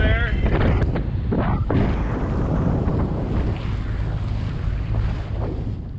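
Strong wind buffeting a sailboat on an open-water passage from Bequia to St Lucia, loud continuous roaring gusts and microphone wind noise with rushing water beneath, close and unbroken throughout.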